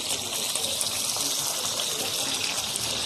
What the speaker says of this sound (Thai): วันนี้น้ำมันใช้ได้แล้วค่ะ รีบใส่กระเพราลงไปเลยนะคะ